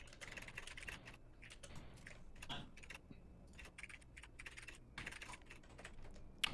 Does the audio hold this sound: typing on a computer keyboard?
yes